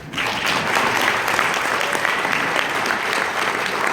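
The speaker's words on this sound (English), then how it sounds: "Can we please just give the spouses a round of applause?" Sustained applause from an awards ceremony audience honoring the spouses, a dense, steady wash of clapping that fills the room evenly from start to finish with no voices over it.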